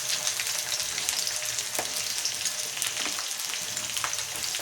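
Onions and green chillies fry vigorously in hot oil for a home-style mixed vegetable curry, a loud continuous sizzle with scattered crackles and pops throughout, no voices.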